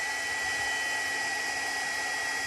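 A heat gun blows steadily at close range while warming textured wallpaper, giving a constant loud whooshing hiss with a faint high whine and no pauses.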